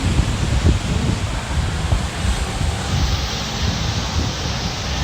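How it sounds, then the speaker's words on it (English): Strong wind buffets the microphone on Hollywood Beach, Florida, with big waves behind it: a steady, loud roaring rush that continues without a break. "Very windy."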